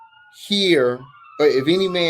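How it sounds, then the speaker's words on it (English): An emergency siren races down a street, its wailing tones rising and falling in two loud bursts with a short lull between them. "this siren is racing down the street"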